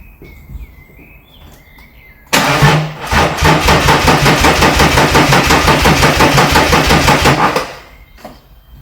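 A starter motor cranks a BMW M57 diesel engine fitted in an E36 chassis with no fuel in the system. It gives one long, loud, rhythmic whirring crank of about five seconds that then winds down.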